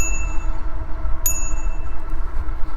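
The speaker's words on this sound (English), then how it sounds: "We do have a little bell here." A single bright bicycle bell ding on an Antelope Pro utility e-bike rings out once, sharp and clear, then lingers with a fading metallic tone over a low background hum.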